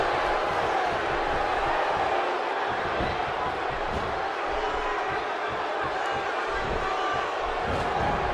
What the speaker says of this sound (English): Another great crowd here in St. Louis.